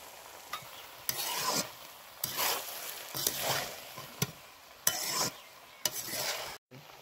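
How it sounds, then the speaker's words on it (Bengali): A spatula stirs paneer and pea pulao in a pan, giving repeated scraping strokes in an irregular rhythm with faint sizzling between them, close and fairly quiet. "ভাতে মটর পনির সব দিয়ে খুন্তি দিয়ে ভালো করে মেশানো হয়েছে।"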